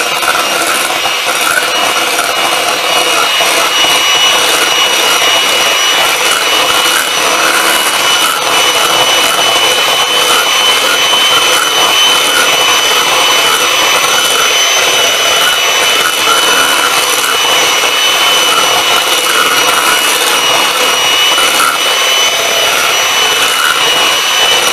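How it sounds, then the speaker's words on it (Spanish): Electric hand mixer beating cream at medium speed for a vanilla chocoflan topping, a continuous loud, steady whir with a gritty scraping texture throughout and no talking. "Y vamos a batir a velocidad media."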